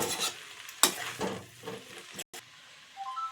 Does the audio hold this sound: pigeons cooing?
no